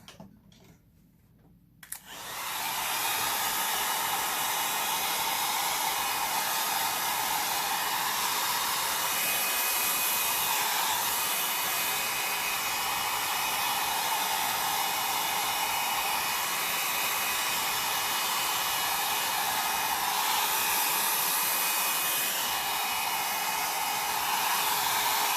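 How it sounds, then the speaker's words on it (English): A hair dryer switches on after a brief quiet moment and blows steadily with a loud, constant whooshing hum, close by and with no talking. "I'm going to bring the blow dryer in here and blow it down a little bit more."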